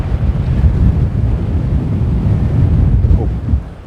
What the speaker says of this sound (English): Quite windy here.